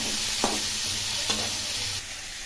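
Fried brinjal pieces tipped into a pan of spinach curry sizzle steadily and close, with two soft stirring scrapes over the frying hiss.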